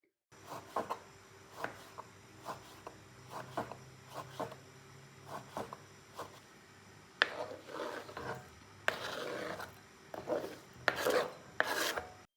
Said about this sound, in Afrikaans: Sny dit net 'n ligte net deur die oranje